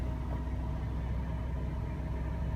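A 2014 Toyota Sienna engine running after a fan motor replacement, a steady low rumbling idle with a constant faint hum on top, continuous and close, with no talk.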